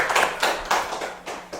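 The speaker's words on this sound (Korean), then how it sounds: "자, 박수" Rhythmic group clapping from an audience at a Buddhist temple's Sunday dharma service marking an anniversary, heard as a handful of loud, evenly spaced bursts of claps close by, with no talking.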